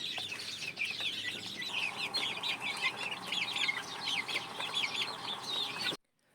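Hens and young chicks cluck and peep steadily in a backyard scratch pen, a busy overlapping chorus of chirps and clucks close by, with no talking, before cutting off abruptly.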